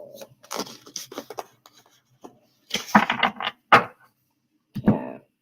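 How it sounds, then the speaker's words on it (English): A deck of cards is shuffled close by in a few separate bursts of riffling, crisp rapid clicks broken by short pauses. "Shuffle."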